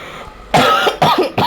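A few harsh, loud coughs from a person with a bad cough, coming in three close bursts after a quiet moment, with no talking.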